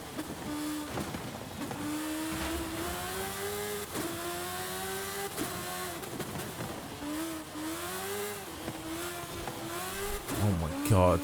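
A small winged race car in Forza Horizon 5 drives hard, its engine note climbing and dropping through repeated gear shifts at steady high revs, with a voice talking over it and a louder burst near the end.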